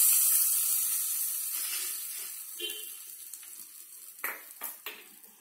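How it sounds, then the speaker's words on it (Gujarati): Asafoetida, curry leaves and green chillies sizzle in hot oil as a tempering for dahi tadka. A loud hiss at the start slowly fades, followed by a few sharp stirring scrapes near the end. "વઘાર કરી લીધા પછી આપણે હવે એને બરાબર હલાવી લઈએ."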